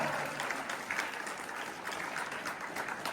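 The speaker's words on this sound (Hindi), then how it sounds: "जोरदार तालियां बजाइए एक बार।" Steady, dense applause from a crowd at a Hindi poetry gathering, a kavi sammelan held for a Holi get-together, running evenly throughout with faint talk underneath.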